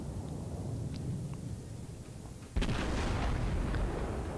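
A battleship's forward turrets fire a barrage in World of Warships, a single sudden heavy boom cutting in partway through and rolling on as a loud rumble over a low engine and sea drone.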